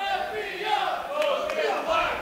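Capitol Wrestling audience cheering both men on during a wrestling match, a steady crowd roar with shouted voices rising and falling throughout, fairly loud and close.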